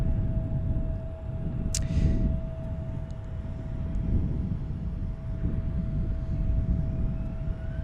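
A cargo airplane at the CVG cargo hub in Cincinnati, taking off or landing near a 12,000-foot runway, gives a steady, distant low engine roar that holds without a break.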